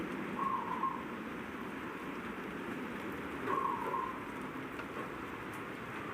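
Light morning rain falls in a home garden as a soft, steady hiss of drops, faint and continuous, with two brief higher tones rising briefly above it.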